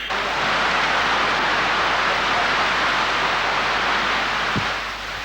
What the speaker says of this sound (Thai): ฝนได้ตกลงมาอย่างหนักในช่วงบ่าย